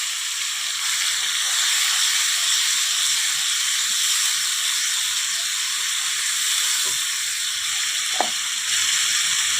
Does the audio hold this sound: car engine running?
no